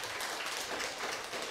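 A church congregation applauds during a service, a dense, even wash of many hands clapping that is fairly quiet and distant and carries on without pause through the short stretch.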